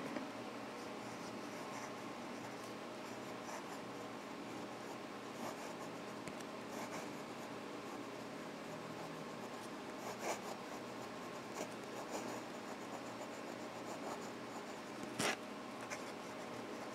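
A Click fountain pen writing on paper, a faint continuous scratchy rustle of nib strokes close up, with a few soft clicks and taps along the way and no talking.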